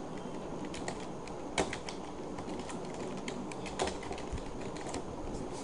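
Typing on a computer keyboard: a quiet, steady run of light key clicks, close by, with two slightly louder taps standing out over a constant background hiss.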